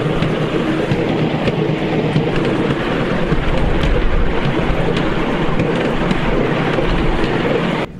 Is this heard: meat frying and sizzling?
no